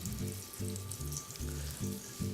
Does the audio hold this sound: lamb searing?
yes